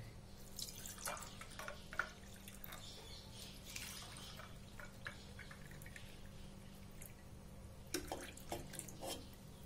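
Carrot juice is poured into a glass over ice cubes, giving a soft splashing, trickling stream with scattered drips and clinks that continues throughout at moderate volume.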